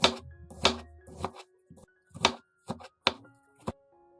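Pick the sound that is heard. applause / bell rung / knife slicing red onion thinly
knife slicing red onion thinly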